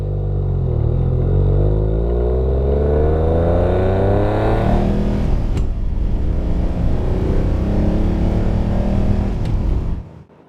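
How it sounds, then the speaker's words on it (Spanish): A Citroën Maserati SM accelerating hard on a road, its engine note climbing steadily, then dropping at a gear change around the middle and pulling again, loud and close, ending abruptly. "vamos a pisarle y pasar los cambios para ver cómo responde."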